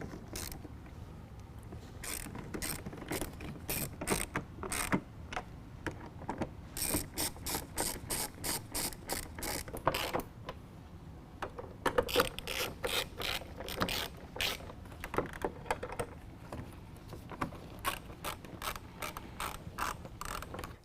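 A hand ratchet with 8mm and 10mm sockets tightens headlight bracket bolts on a car, loud rapid clicking bursts in repeated runs separated by short pauses, close up with no talking.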